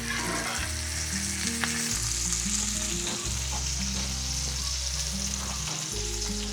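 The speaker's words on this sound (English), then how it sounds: "we're going to baste them in butter for the remainder of the cook" Filet mignon steaks topped with rosemary sizzle steadily in a hot pan while being basted with butter, a loud continuous frying hiss broken by scraping spoon strokes and clinks, with no talking.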